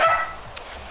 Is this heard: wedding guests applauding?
no